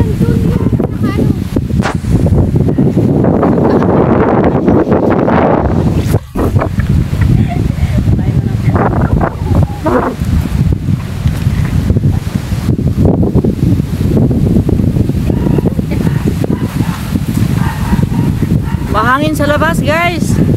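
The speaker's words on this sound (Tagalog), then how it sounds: "Mahangin sa labas" Strong sea wind buffets the microphone outdoors at the shore near a boat, a constant roar, while people talk over it throughout.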